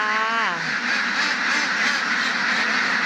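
A crowd of ducks on an egg-laying duck farm in Bueng Kan, Thailand, quack continuously and loudly, a dense overlapping chorus of many birds close by.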